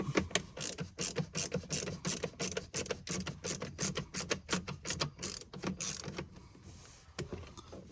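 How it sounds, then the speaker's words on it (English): A hand ratchet clicks in fast, repeated bursts while backing out star-shaped Torx screws from a panel, the ratcheting steady and close for most of the stretch before slowing and fading near the end. "if you guys are taking these off, these are not regular screws. It is the star-shaped screws."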